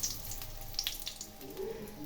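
Dried red chillies dropped into hot oil left from frying fish for a fish curry give off a soft, steady sizzle dotted with scattered small crackles and pops, heard up close but fairly quiet.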